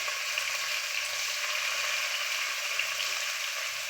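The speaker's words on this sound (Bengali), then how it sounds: "এবার আমি ওই তেলে দিয়ে দেব কেটে রাখা পনির।" Cut paneer frying in hot oil in a pan, a steady close sizzle with faint, intermittent low stirring or scraping sounds underneath.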